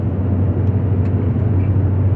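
A car with an automated gearbox accelerates up a hill on a highway, its engine a loud, close, continuous low rumble with no speech over it.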